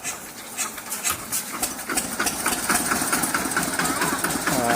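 The engine of a ride-on tractor converted from a farm tiller with a hydraulic system starts and runs, a steady close chugging idle with a rhythmic knock. A voice talks over it.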